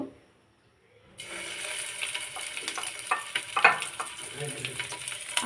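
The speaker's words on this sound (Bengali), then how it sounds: "তেলটা গরম হয়ে গেছে এখানে একটা একটা করে মাছের মাথাগুলো দিয়ে দিব" Fish heads are dropped one by one into hot oil, and after a brief silence a loud, steady sizzle erupts, crackling and popping continuously with sharper spits as each piece hits the pan.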